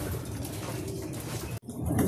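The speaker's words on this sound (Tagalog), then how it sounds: "inakyat ko itong mga ibon" Racing pigeons coo steadily in a loft, a close, continuous rumbling chorus of low coos that breaks off briefly before resuming.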